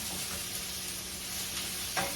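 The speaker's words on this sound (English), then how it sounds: "You can hear it sizzling." Precooked chicken sizzles quietly and steadily in a hot pan, a soft continuous crackle with a slight clink near the end.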